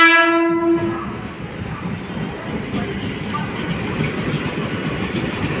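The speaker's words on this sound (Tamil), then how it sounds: "இந்த ட்ரெயின் அரக்கோணம் டு சென்ட்ரல் செல்கின்ற ட்ரெயின்" An Arakkonam-to-Chennai Central passenger train rumbles past close by at Sevvapettai, opening with a loud horn blast that fades into a steady rolling roar of wheels and cars.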